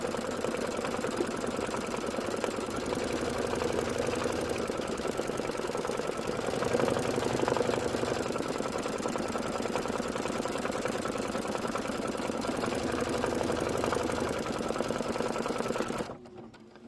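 A sewing machine stitches a quilt skirt and tacks down a line, running in a steady, continuous rapid whir close up for about sixteen seconds before stopping abruptly.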